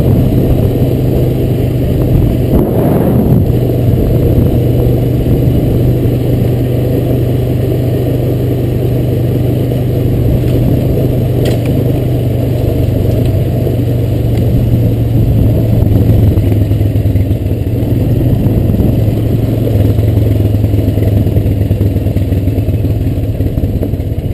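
A Honda Recon ES ATV engine runs steadily on a shaded trail, a continuous mid-pitched drone with a faint clattering edge that holds at a constant level throughout with no voices.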